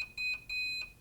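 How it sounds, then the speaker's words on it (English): A timer alarm on a heat press for printer transfers beeps twice in quick paired electronic tones, shrill and moderately close, with a faint background hum and no talking. "our timer's gone off"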